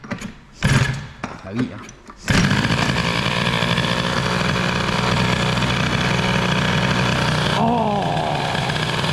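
A Peugeot 103 moped with an air-cooled Stage6 Mk2 Sport hybrid setup and its choke on, started after a few brief voices and thuds, then catching and running in a loud, steady, buzzing idle close by.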